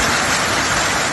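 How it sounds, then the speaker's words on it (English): Heavy, unrelenting downpour over the Sunshine Coast during a severe flood-bringing storm, heard as a dense, steady roar of rain at constant loudness throughout. "An unrelenting, unforgiving downpour"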